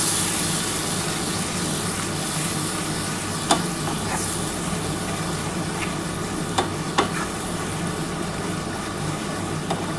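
Spicy masala paste with a splash of water cooking down in oil in a pan for egg curry, a soft continuous sizzle with a few sharp clicks of stirring against the pan, fairly quiet and without talk.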